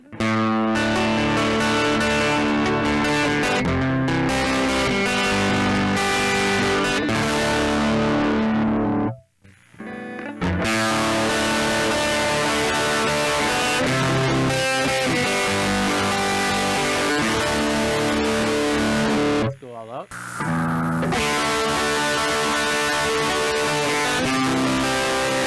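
Heavily distorted electric guitar through an iRig Micro amp at full gain plays loud, sustained chords and riffs, with two brief drops to near silence between passages.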